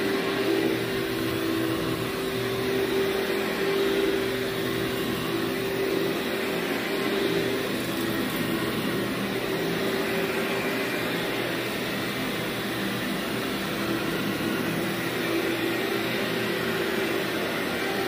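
A vacuum cleaner runs steadily over carpet, a loud unbroken whine and roar with a constant pitch held for the whole stretch.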